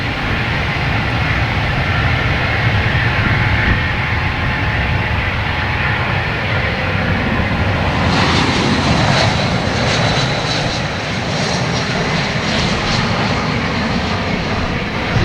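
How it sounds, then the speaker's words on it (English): JetBlue airliner passing low overhead near Boston Logan Airport, a loud continuous jet engine roar that swells with a rising whine midway, heard from a roadside spot. "Get a JetBlue flying over my head from San Juan."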